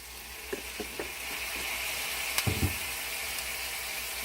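A heaping tablespoon of garlic sizzles in a pan for creamy sausage pasta, a soft steady frying hiss with a few light clicks and utensil taps, close and fairly quiet.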